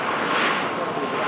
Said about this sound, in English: Now the Ryanair Carcassonne begins the departure roll and spool up